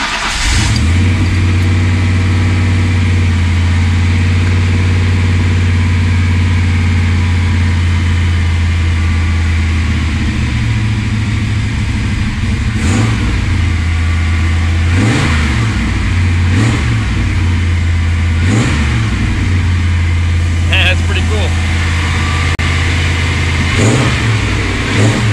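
A 1986 Ford Mustang GT V8 fitted with Microsquirt engine management starts up and settles into a loud, steady idle, then takes several sharp revs that climb and fall back, close and continuous, with no talk.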